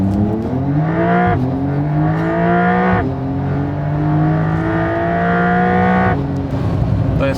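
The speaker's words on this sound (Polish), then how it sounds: "powinieneś chyba mocniej hamulec wcisnąć, bo on wtedy z takich wyższych obrotów wystrzeliwuje jak z procy nagle" A car's engine revs hard and holds high RPM for a launch start, its tone climbing and dipping through several surges, loud and close and steady throughout with no talk.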